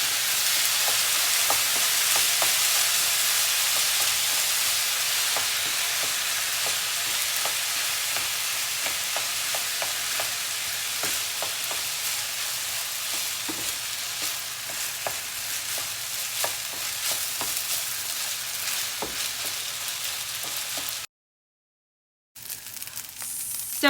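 Rice crisping in rendered bacon fat with soy sauce, a dense, steady hiss of frying with light scraping stirs, close and continuous, cutting out briefly near the end before resuming.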